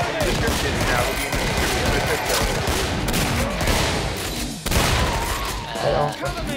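Rapid bursts of gunfire and explosions from the game Killing Floor crackle continuously, with a voice talking over the dense, loud shooting.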